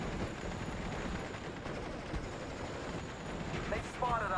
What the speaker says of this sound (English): Those scouts should not be firing.